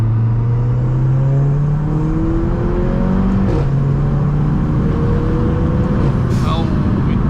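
A Mercedes AMG A45 fitted with a RENNtech exhaust downshifts in sport mode with the window open, its engine note falling in steps, broken by a couple of brief sharp exhaust pops over steady road and wind noise.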